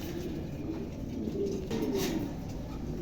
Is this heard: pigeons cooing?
yes